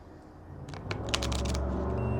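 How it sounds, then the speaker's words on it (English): A straight riffle shuffle of a deck of playing cards during a close-up magic performance: a quick burst of crisp, fluttering card riffles in the middle, close and moderately loud over a low room hum. "So again, just give them just like that, just a straight riffle."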